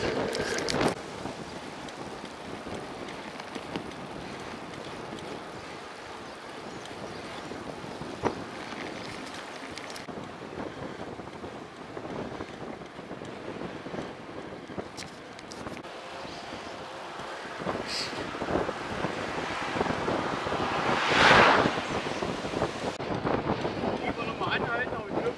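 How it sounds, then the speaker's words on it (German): Steady headwind rushing and buffeting across the microphone while cycling, with a stronger gust near the end and brief faint voices. "aber Gegenwind haben wir heute."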